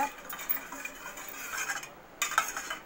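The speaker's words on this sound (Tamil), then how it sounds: "நல்லா சர்க்கரை நல்லா கரைகிற மாதிரி நல்லா கிண்டி விட்டுக்கோங்க" A spoon stirs sugar and eggs in a bowl, giving quiet, uneven clinks and scraping taps against the sides. The bursts come in irregular clusters, with a brief pause before a final sharper knock, and no voices.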